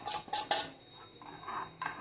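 A spoon clinks and scrapes in a pot as melted soap base is stirred with aloe vera juice, a few quick bursts of scraping followed by softer rubbing strokes. No one talks.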